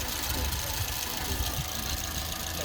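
A Suzuki Swift engine idles roughly with a steady, uneven rumble and a knocking vibration, heard close up and continuously with no one talking.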